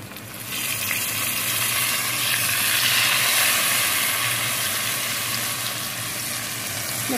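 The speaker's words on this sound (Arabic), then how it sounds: "السمك اهو اللي هنحمره تبلناه في الدقيق وهنحطه في الزيت اول الزيت ما يقدح" Flour-dredged fish fries in hot oil with a continuous, even sizzle and hiss, close and fairly loud, with no voices.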